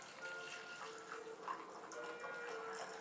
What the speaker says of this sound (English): the plunge of the French press and the pour of the coffee into the